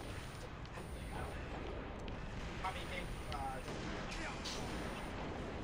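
Distant gunfire and explosions in a Halo Reach big team battle, a continuous rumbling wash of shots and booms with a few sharper cracks, under a heavy noisy background.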